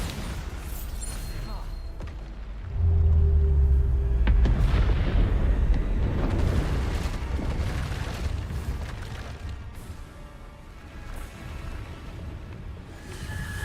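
A magical Bombarda blast from Hogwarts Legacy lands as a deep, loud booming explosion with a rumbling tail, set against ongoing spell-combat noise.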